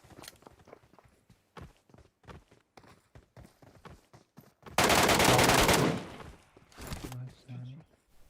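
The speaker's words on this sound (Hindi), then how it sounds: "कूदते हुए बिल्कुल हवा से गोलियां चलाता हूँ, हवा में गोलियां चलाता हूँ" A loud burst of rapid gunfire in PUBG Mobile, fired while jumping through the air, lasting about a second, preceded by quick footsteps and taps, with short bursts and clicks after it.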